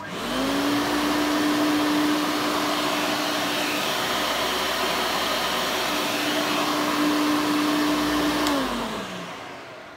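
A repaired vacuum cleaner motor runs steadily with a smooth, even whine, spinning up near the start, holding a constant pitch with a brief dip midway, then winding down at the end; no talking.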